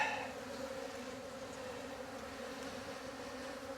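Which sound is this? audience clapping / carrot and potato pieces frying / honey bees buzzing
honey bees buzzing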